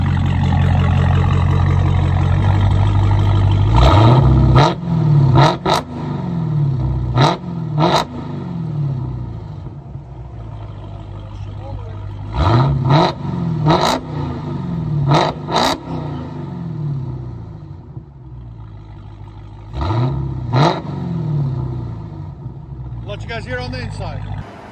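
A Dodge Challenger Hellcat's 6.2L supercharged V8 is revved hard in several loud bursts through an aFe cold air intake and loud exhaust, with a rumbling idle between blips, close by, under some talk.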